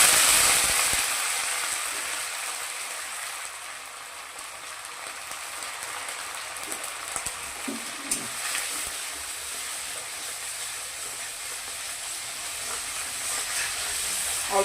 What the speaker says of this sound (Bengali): প্রথমে আমি তেলটাকে দিয়ে ভালো করে ভেজে নিব।